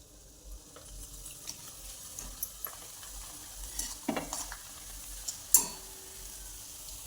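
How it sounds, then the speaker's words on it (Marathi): Grated potato fries in hot peanut oil for a fasting chivda, a soft, fairly quiet sizzle with scattered light clinks and scrapes of a utensil in the pan. "शेंगादाण्याचं तेल घेतलेलं आहे ते गरम झालं त्याच्यात बटाट्याचा किस टाकून घ्यायचा"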